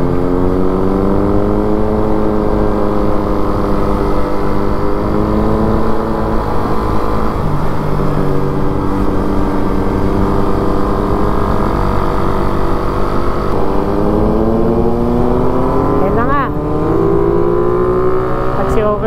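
A Suzuki Raider 150 Fi motorcycle rides along a smooth paved road, its engine droning loud and close. The pitch rises and falls with throttle changes throughout, and wind rush runs underneath the whole time.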